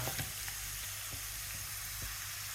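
Salted minced meat frying in a pan with vegetables gives a steady, moderately quiet sizzle, with a few soft stirring taps and scrapes.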